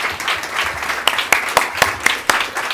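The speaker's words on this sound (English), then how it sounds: "A bigger round of applause." Audience applause for an artist on stage at a Nobel Peace Prize celebration, a burst of clapping with several sharp, louder claps standing out from the steady patter, close and fairly loud.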